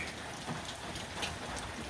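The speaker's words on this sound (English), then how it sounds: "kind of like a mixture of rain and snow right now" A mixture of rain and snow falls as a steady, faint, even hiss of fine patter with no other distinct sounds.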